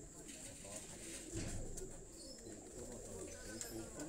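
A pigeon crossbred from dub and golden lines coos softly amid steady background noise and murmured voices, the low cooing running throughout and swelling briefly near the middle.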